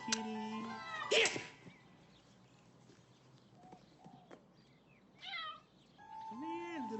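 A cat in a pet shop meows several times, short, close calls spaced across the moments, with quiet room noise and faint human sounds between them.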